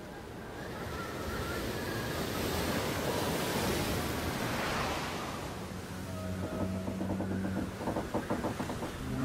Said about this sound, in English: storms rage almost every day of the year, whipping hundreds of trillions of gallons of water into a ceaseless frenzy